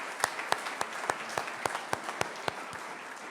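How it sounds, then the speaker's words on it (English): Applause at a ribbon cutting event comes as a sparse run of sharp, evenly spaced claps, loud and close against a quiet room. "So that deserves a round of applause"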